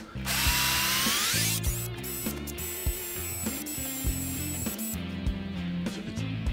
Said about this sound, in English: I'm going to try and drill it as straight as I can.